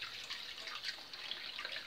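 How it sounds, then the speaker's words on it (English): Tap water running steadily into a sink while raw liver is rinsed, a continuous close splashing hiss with small drippy fluctuations and no voices. "I'm just going to rinse off all the liver and get all the bits out of it that I don't want"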